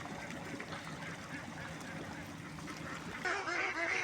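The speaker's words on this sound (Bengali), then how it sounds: "দেখেন ভাই নদীর মধ্যে কত সুন্দর দেখা যায় হাঁস ভাই" Ducks on a river calling in a steady jumble of honks and quacks at middle distance, with the calls growing louder and busier toward the end.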